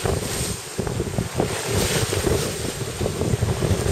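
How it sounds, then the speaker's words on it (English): Steady wind roars across the microphone while waves slosh and surge against a moving sailing yacht's hull on a freshening northwest wind, a constant broadband rush with no voices. "Glad the wind's picked up."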